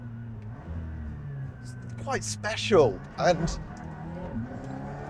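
An Aston Martin hypercar drives with a low, steady engine drone beneath someone speaking over it, the tone holding fairly even with slight shifts in pitch.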